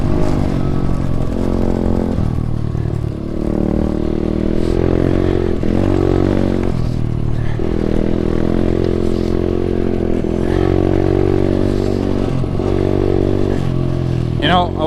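An SSR125 pit bike ridden in fourth gear: loud buzzing engine revving up and down close by, with clatter and someone talking over it throughout.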